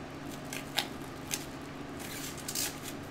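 Scissors snip through cling wrap for a resin wave-texture project, giving a few quiet, sparse cuts spread over a few seconds against a low background hum.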